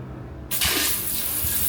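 A bathroom bidet sprayer (bum gun) bursts on after a brief quiet moment, then runs as a loud, steady hissing gush of water at low pressure.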